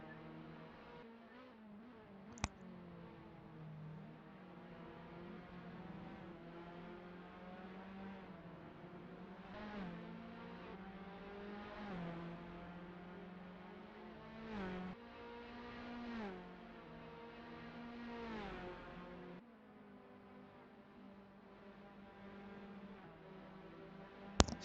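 Race cars in a Halfords Formula Alfa race battle on track, engines droning and shifting pitch steadily for a long stretch, moderately loud with occasional sharp clicks.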